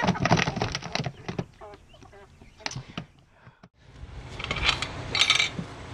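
Chickens squawk and cluck while being moved into a new coop in a barn, giving sharp irregular bursts near the mic with rustling and clattering around them and a brief quiet gap midway.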